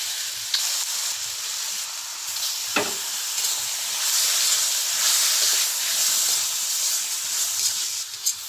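Beef hits a hot pan of sautéed garlic, onion, ginger and chili, setting off a loud, close, continuous hissing sizzle that swells steadily, with a few clinks of utensils and no talking.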